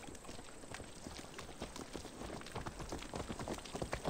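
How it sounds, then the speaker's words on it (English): Horse hooves clip-clopping in Assassin's Creed Valhalla, a steady close rhythm of hoofbeats on hard ground at walking pace, with no talk over them. "Oh, look at him. He's on Basim's horse"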